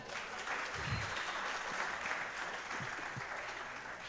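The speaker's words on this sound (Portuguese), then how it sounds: "Obrigado, pode aplaudir ele." A church congregation applauds during a sermon, a soft, steady patter of many hands heard from a distance, even and fairly faint throughout with a few low thumps underneath.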